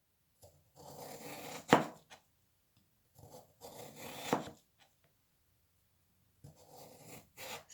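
Kitchen knife slicing vegetables paper-thin on a cutting board during a basic Korean cooking lesson, in a few short bursts of quick, close strokes separated by pauses.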